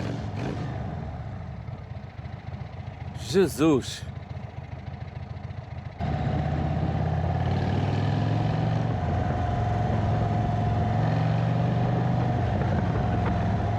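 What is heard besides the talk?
custom motorcycle exhaust running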